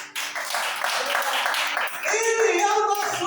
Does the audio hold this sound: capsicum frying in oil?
no